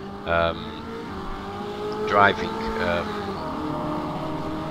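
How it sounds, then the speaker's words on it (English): Norma LMP3 race car engine in rFactor 2 at Sebring, a continuous buzzing drone with two quick rising revs, someone talking over it. "I do love this sound of this car."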